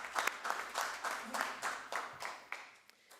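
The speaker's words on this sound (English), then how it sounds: "Yes, I think it requires an applause too." A small group at a council meeting gives faint, sparse applause: a handful of evenly spaced claps in a quiet room, dying away after about three seconds.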